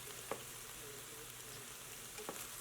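Ground beef browns in a pan with peppers and onions, a faint steady sizzle running throughout with a couple of soft clicks, quiet and alone.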